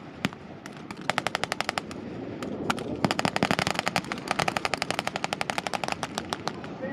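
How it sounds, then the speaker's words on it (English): Suppressive gunfire crackles at an outdoor military rescue display: scattered single shots first, then long rapid bursts of automatic blank fire, loud and sharp, layered with more shots from a distance. "they're laying that fire down to suppress it"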